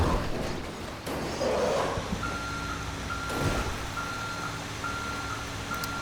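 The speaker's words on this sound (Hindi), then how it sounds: "ट्रक वगैरह को मैं ना घुमा के लेके जाने वाला हूँ।" A truck turning around on a rain-soaked road, its steady reversing beeper pulsing in regular evenly spaced tones over a continuous low engine rumble, close by and loud.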